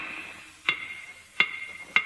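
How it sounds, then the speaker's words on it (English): A hammer striking stones on a floor in a radio drama gives three sharp, ringing metallic taps about two-thirds of a second apart, clear and close against a quiet background. "Look, the floor is covered with stones. We'll hammer them."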